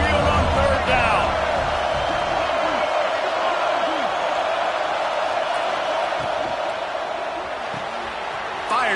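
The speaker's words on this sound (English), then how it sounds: "The Tide crowd rolling noise down onto Saban Field on 3rd down." A loud, steady roar from the Alabama Crimson Tide home crowd at a college football game on Saban Field on third down, a dense wall of crowd noise sustained throughout with scattered shouts and whoops.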